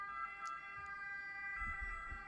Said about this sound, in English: there's like an ambulance passing right now